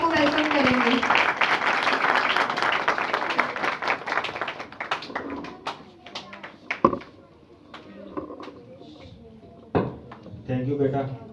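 A church congregation at a New Year's Eve prayer service claps together, applause strongest at the start and then fading into scattered claps, voices and knocks.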